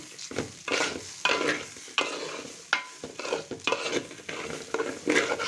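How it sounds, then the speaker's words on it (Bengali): Polao rice fried with a full packet of biryani masala in a pot for beef biryani, stirred in quick repeated scraping strokes over a crackling sizzle, close and fairly loud, with no voices. "আর চালটা আমি ভালো করে ভেজে নিচ্ছি"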